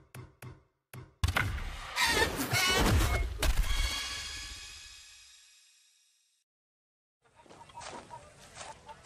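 Clucking and crowing of a giant rooster in a Far Cry 6 cockfight game, with a few sharp knocks first, then a loud dense burst of squawks that fades to silence before quieter game sounds return.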